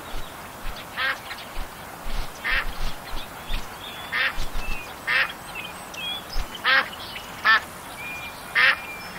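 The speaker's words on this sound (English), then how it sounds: "Hey, there's some ducks coming in." Ducks quack in short bursts in the video game Duck Dynasty, about ten calls spread across the clip, fairly close and clear over a low, steady background hiss.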